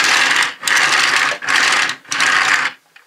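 A Zyuoh Cube toy trailer from the DX Tousai Zyuoh set rolls on its small plastic wheels, giving four close, loud bursts of whirring rattle separated by short pauses.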